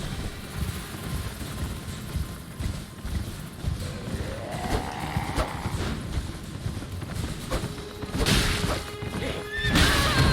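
Horse whinnies in Elden Ring combat, a rising neigh mid-clip amid clip-clop hooves, crashes and dense battle noise, with louder bursts near the end.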